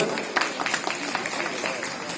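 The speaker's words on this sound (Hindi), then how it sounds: "तालियों की गड़गड़ाहट से" Crowd at an inauguration ceremony applauding in a steady wash of clapping for a couple of seconds, moderately loud, with a speaker's voice faintly over it.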